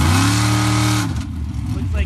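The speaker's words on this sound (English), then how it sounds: "Here's Joe Simeon purging the nitrous." A drag race car purges its nitrous during pro bracket eliminations at a Soboba racing event, a loud hissing rush over the engine that fades after a second, with an announcer talking throughout.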